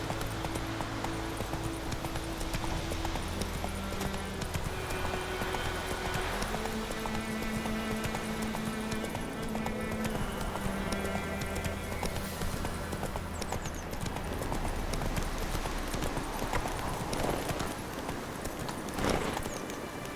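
Galloping hooves of Roach in The Witcher 3 run steadily throughout, a rhythmic clip-clop partly masked by sustained game music tones and ambient noise.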